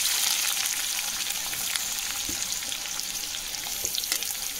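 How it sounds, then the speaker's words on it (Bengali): Onions frying in hot mustard oil after whole garam masala, a steady, close sizzle and crackle with occasional stirring scrapes, no talking. "পেঁয়াজটাকেও লাল লাল ভাবে ভেজে নেব।"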